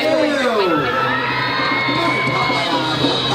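A crowd of students cheers and shouts loudly at a school football match, a continuous dense roar of young voices with whoops and rising yells filling the air.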